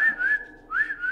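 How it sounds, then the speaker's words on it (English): A weak, breathy whistle attempt, a couple of thin wavering tones with a dip between them, close and short. "That was the worst whistle I've ever heard."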